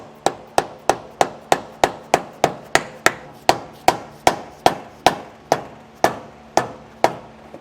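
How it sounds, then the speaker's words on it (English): A rubber mallet hammers a brake assembly part into place during a DeeMaxx disc brake kit install, with about twenty sharp, evenly spaced blows in a steady rhythm, close and clear with no talking. "Take a rubber mallet and get this hammered on."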